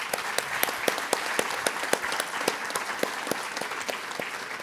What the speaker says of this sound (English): Moi, j'aimerais que tout le monde applaudisse.